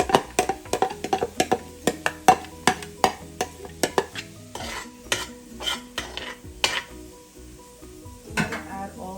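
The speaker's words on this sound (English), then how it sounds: "I'm going to add the onions to this rice" Onions being stirred into rice in a pan, a rapid series of sharp spatula clacks and scrapes against the metal over a light sizzle, slowing into sparser knocks toward the end.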